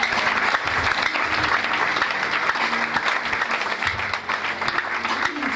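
Church congregation clapping during a prophetic prayer service, a steady mass of hands with a low murmur and faint background sounds underneath.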